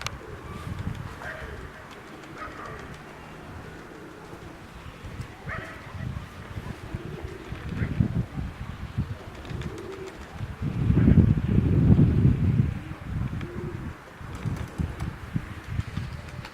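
Pigeons coo in damp, rainy winter weather outdoors, giving soft, intermittent low calls amid rustling and general background noise, with a louder burst of activity midway.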